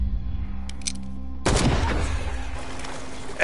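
Gunfire in the Call of Cthulhu video game: a loud, abrupt burst of game gunshots erupts after a quieter stretch of ambience and continues as a dense, noisy blast with lingering echo.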